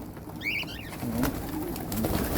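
A pigeon coos softly several times in low, rolling notes, nearby, with a brief higher chirp early on and steady background hum.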